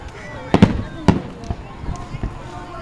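Fourth of July fireworks bursting nearby: two sharp, loud booms followed by several smaller pops and crackles spread across a few seconds, with faint voices in the background.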